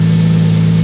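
A Toyota Supra MK4 engine holds a steady, loud, even drone on a dyno during tuning, a brief sustained tone with no speech.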